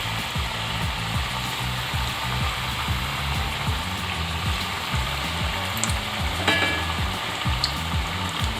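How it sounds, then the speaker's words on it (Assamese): Rice flour pitha frying one by one in refined oil in a kadai on a low flame, a dense close bubbling sizzle with steady rapid clicking ticks running through it, and no voices. "কম জুইত ৰঙা হোৱাকৈ ভাজি ল'ম।"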